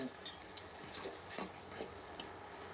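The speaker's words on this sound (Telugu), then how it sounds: "ఇప్పుడు మిక్స్ చేసుకోవాలి నూడిల్స్." Cooked noodles mixed with a metal utensil in a pot, with soft, irregular clinks and scrapes of cutlery against the pot at close range and faint background hiss, quiet overall and without talking.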